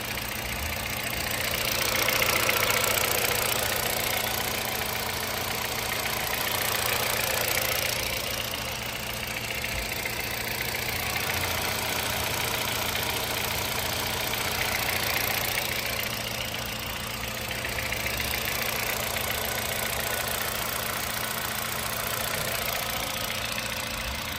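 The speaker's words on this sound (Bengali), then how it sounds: "আসলে আমি দেখাচ্ছি ইঞ্জিনটা সাউন্ডটা শুনেন" A 2012 Hyundai Accent engine idling, a steady low mechanical hum with a faint ticking texture, swelling slightly at times, with no talk over it.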